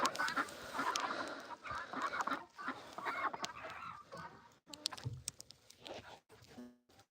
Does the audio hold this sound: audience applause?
no